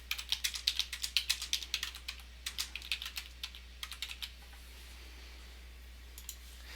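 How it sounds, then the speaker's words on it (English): Text is typed on a computer keyboard in Corel Draw, a quick run of crisp, close key clicks that gradually slows and thins out, leaving a steady low hum and a few last taps. "So I'm just going to come over here and type out my text."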